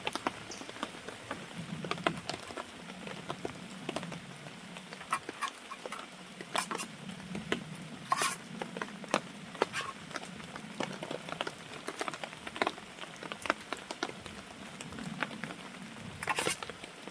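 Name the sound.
rain falling at a hammock camp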